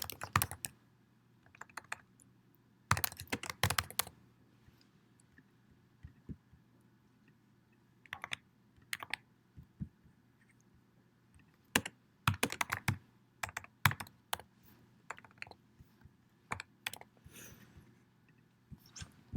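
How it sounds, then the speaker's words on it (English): Typing on a computer keyboard, quick bursts of clicking keystrokes separated by pauses, close and clear against a quiet background. "I'm never a good typer when people are watching"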